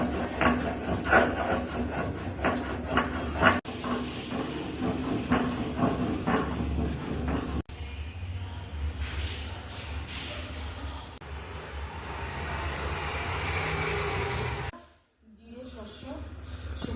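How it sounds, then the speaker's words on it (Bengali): Tomato being ground on a traditional Bengali grinding stone for a fish curry, a steady close rubbing and scraping of stone on stone in repeated strokes that runs most of the way through before a brief pause. "এখন এই টমেটোটাও বেটে নেবো আমি"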